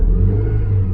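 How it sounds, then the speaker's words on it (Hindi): A Honda Civic engine with an ignition coil fault on cylinder 2 runs steadily after starting. It gives a loud, even low idle hum for a brief moment with no talk. "एक बार गाड़ी को स्टार्ट करता हूँ वापस से।"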